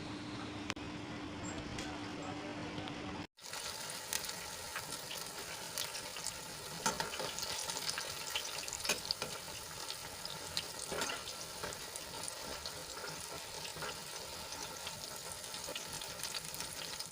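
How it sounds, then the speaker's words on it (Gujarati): A snack fries in oil, turned from side to side until crispy and golden. A quiet moment gives way to a sudden, continuous close-up sizzle with crackles and pops throughout. "ઉપર નીચે બંને તરફ ફેરવી ફેરવીને આપણે એને સરસ રીતે ગોલ્ડન થાય ત્યાં સુધી આપણે એને ફ્રાય કરી લેવાના છે"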